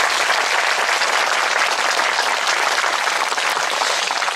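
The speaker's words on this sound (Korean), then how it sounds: "여러분 모두 다 서로에게 박수 크게 한번 주시고요" Dense, sustained applause from a lecture audience filling a hall, steady and loud with no break for the whole stretch.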